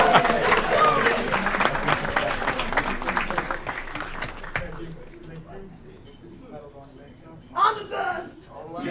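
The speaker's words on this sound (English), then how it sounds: "Next round of applause for Charlie." A city council meeting audience claps loudly and densely for about four and a half seconds before the applause thins out. Quieter murmuring and a short burst of voices follow.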